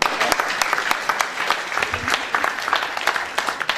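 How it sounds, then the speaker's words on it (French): An audience applauds at the opening of a film festival in Pays de Fayence, a loud sustained wash of many hands clapping in a hall, with a few sharper individual claps standing out. "Vous pouvez vous applaudir."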